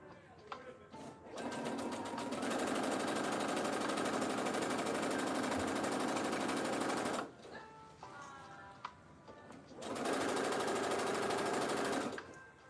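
A sewing machine runs forward and back stitching a dress seam, two long steady rapid whirring runs separated by a brief pause, close and loud, with someone talking quietly around them.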